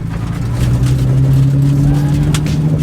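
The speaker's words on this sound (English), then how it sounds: "There is so much road noise coming from this car." A Nissan 350Z cruising, its cabin filled with loud road noise and a steady low engine drone that swells slightly after the start, with a brief bump of tyre rumble near the end.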